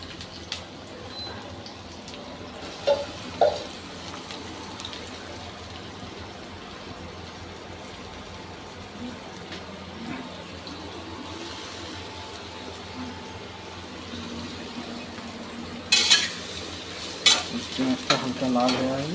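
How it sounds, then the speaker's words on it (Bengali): Onions frying in hot oil for a vegetable dum biryani, a steady soft sizzle with occasional stirring clinks and scrapes, close and moderately quiet, no talk. "তেল গরম হয়ে গেছে, এই পেঁয়াজ দিয়ে দিচ্ছি।"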